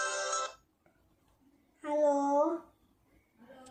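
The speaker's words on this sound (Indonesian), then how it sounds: "Loh, ada telepon ya, Rats" A smartwatch rings with an incoming call, bursts of a bright, harmonic ringtone repeating with pauses between them, fairly close and clear, with no talking over it.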